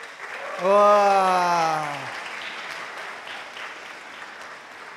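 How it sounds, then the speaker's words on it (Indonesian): An audience claps through the whole stretch, a steady wash of applause that carries on after one voice calls out a long drawn exclamation at the start. "kalau jawabannya ya, kalian tepuk tangan ya, tepuk tangan"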